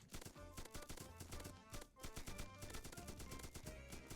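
Rapid-fire gun in the Roblox game Mad City, firing about eight bullets a second in fast, continuous bursts of loud, sharp shots with only brief gaps.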